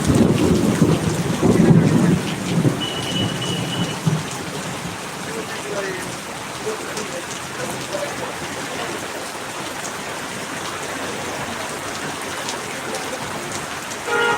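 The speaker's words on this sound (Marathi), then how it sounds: "पाऊस जोरात आहे" Heavy rain pours steadily, with a louder rumbling burst in the first few seconds that settles into an even, dense hiss.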